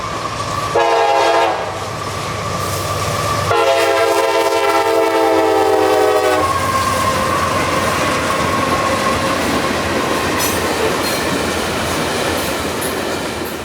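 A freight train of loaded rock hopper cars rumbles past up close, its horn blaring in two long blasts early on, followed by steady rolling wagon noise.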